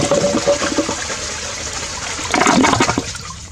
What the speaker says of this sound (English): Here comes flush number 2.